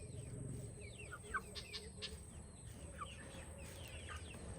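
Faint chirps and calls from several birds in a rural setting in the Philippines, scattered short notes over a quiet low hum, with a hint of chicken clucking nearby.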